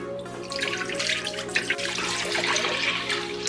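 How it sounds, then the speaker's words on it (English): Apple cider pours steadily into a crock pot, a continuous close splashing and gurgling stream without talk. "pour your apple cider into your crock pot"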